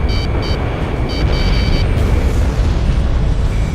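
A missile strikes a tank in the flight game Ace Combat 6, leaving a loud, sustained rumbling roar of explosion and jet noise that stays dense throughout, with a few brief high beeps early on.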